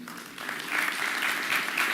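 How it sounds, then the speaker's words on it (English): A conference audience applauding, steady dense clapping throughout that swells slightly after the start, with no talk over it. "So give yourselves a round of applause this morning."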